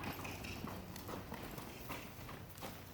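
A horse trotting during a showmanship walk-to-trot transition, with a steady, even clip-clop of hooves close by and a dense, continuous rhythm throughout.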